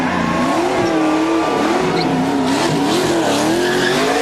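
A NASCAR race car revs hard while its tires squeal continuously, the engine pitch rising and falling as it spins in loud, close donuts on the pit stretch at Watkins Glen after winning a race.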